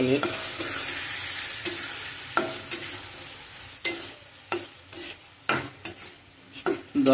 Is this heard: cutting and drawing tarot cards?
no